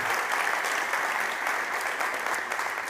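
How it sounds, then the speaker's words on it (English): Sustained applause from an audience at a South Summit 2023 stage winner announcement, a dense wash of clapping at steady volume for a few seconds. "Big applause to our judges, please."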